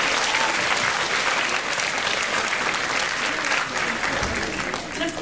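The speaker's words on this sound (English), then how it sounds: "Can we give them a round of applause for all their hard work?" A concert crowd claps steadily and loudly throughout, dense sustained applause with no pauses.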